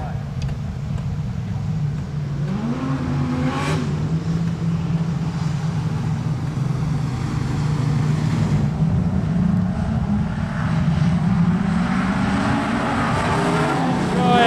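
Production sedans race on the dirt oval at Kingaroy Speedway, engines droning and shifting pitch as the cars circle, with occasional tire skids and a race commentator talking over the steady roar.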